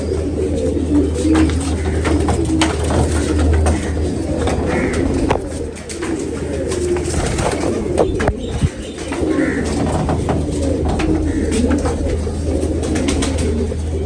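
Pigeons of the 222 breed coo repeatedly at close range in a rolling, overlapping chorus, with occasional chirps and brief rustles mixed in across the whole stretch.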